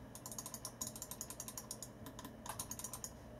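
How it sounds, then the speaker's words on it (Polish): A SteelSeries Sensei RAW Heat Orange computer mouse clicked rapidly in a quiet room, producing a steady run of crisp, faint, evenly spaced clicks with a few brief pauses. "Klikamy, klikamy, zatrzymujemy."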